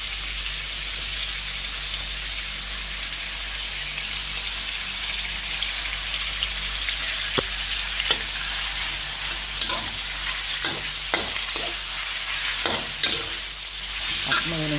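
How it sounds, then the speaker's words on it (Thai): Beef stir-frying in a pan gives a continuous loud sizzle, with scattered spatula scrapes and taps growing more frequent toward the end. "ผัดเนื้อ ใส่ขึ้นสามจาน"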